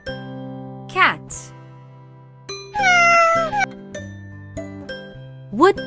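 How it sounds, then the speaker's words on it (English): A cat meows several times in short, rising and falling calls, separated by pauses over a background of gentle chiming tones. "Cat."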